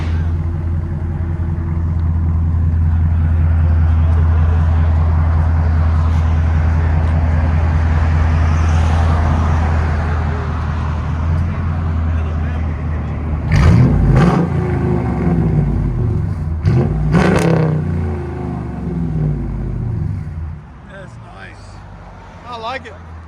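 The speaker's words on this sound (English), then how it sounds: "True dual Carvens with X pipe. Again. Go ahead and back it up. Got a nice deep idle to it." A 2018 RAM with a 5.7L HEMI V8, true dual Carven exhaust and X-pipe gives a loud, deep idle rumble, then two sharp revs rise and fall near the end, with someone talking over it.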